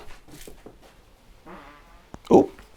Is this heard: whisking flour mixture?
no